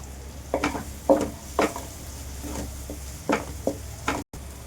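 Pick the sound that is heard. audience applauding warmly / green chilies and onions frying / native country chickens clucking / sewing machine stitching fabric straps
green chilies and onions frying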